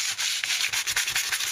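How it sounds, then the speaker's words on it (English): A sanding block of sandpaper rubs quickly back and forth over glossy junk mail paper, giving a close, scratchy, rhythmic scuffing in short repeated strokes. "with a sanding block of sandpaper"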